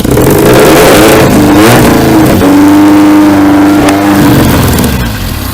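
A Mitsubishi 4G64 2.4-litre engine swapped into a Lancer revs hard, loud and close, its pitch climbing and holding under an open throttle before easing back slightly near the end.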